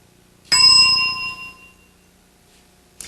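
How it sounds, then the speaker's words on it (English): A bright single bell ding in a television game show, striking loud and ringing out with a long fading tail, followed by a faint click near the end. "You may start that description when you hear the bell"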